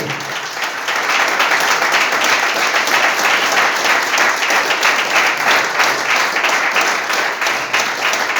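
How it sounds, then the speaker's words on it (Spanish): A church congregation applauds in a loud, dense, sustained burst of many hands clapping together, starting abruptly and holding steady to the end. "Aplaudan."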